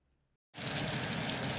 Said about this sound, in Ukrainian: Нарешті ми дочекалися і до нас дійшов дощик. І такий пустився сильний.